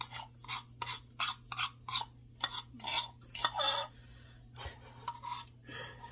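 A whisk scrapes and rasps against a pan of peanut butter fudge in quick rhythmic strokes, close and fairly quiet, with a steady low hum behind it and a few slower stirs near the end.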